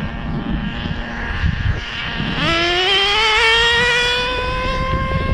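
The nitro engine of a 20-year-old HPI Nitro MT2 RC truck idles, then revs up into a loud, rising high-pitched whine that holds steady as the truck speeds off across a parking lot.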